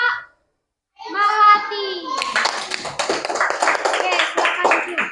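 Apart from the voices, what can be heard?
children applauding a group in class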